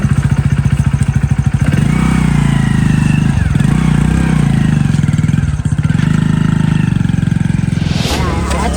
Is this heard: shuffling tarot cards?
no